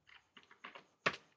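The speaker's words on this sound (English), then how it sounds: "Just type L and press enter." Four quick keystrokes tap on a computer keyboard, close and quiet, with a final key struck noticeably harder, like pressing enter, all in about a second with no voice.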